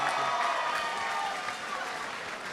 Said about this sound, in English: let me get a big round of applause for Grady Warren